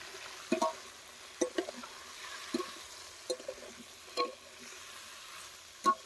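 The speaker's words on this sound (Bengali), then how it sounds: "এখন আমরা কেটে রাখা কাঁচা লঙ্কা আর টমেটোটা দিয়ে দেব" Green chillies and tomato with turmeric and salt stirred in a pan, a few sharp scraping clinks spaced apart over a faint, quiet sizzle, no voices.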